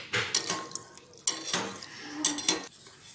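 A spoon stirs custard mixture into hot milk in a metal pan, producing close, repeated scraping and clinking strokes in uneven bursts with short pauses between them.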